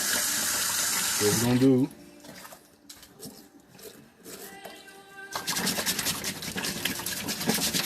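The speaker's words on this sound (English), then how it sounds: "Get one last little bath in the hot water." Hot water runs from a tap for cleaning sneakers, a loud, steady gush that stops, leaving a quieter stretch where someone talks, then resumes with a bright, hissing flow.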